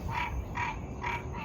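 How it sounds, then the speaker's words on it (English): Geese honking outdoors, with three evenly spaced nasal honks over a steady background hum. "all the geese are out."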